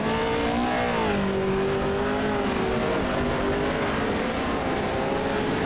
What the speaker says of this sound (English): a season of racing these trucks have put on